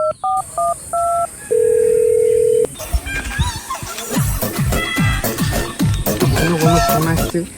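A phone's keypad tones sound in a short run of beeps and a longer held tone, followed by a busy stretch of speech-like chatter and clucking fowl nearby.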